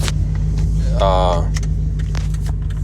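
A loud truck engine idles with a steady low rumble close by, a short electric whir and faint jangling over it, while someone talks throughout.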